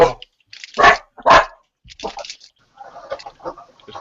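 A dog barks in loud bursts at a house during a casual chat, with several sharp barks near at hand mixed with people talking over and between them.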